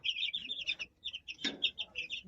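Newly bought chicks chirp continuously in quick, high-pitched peeps, close by and fairly quiet, with a brief thump partway through.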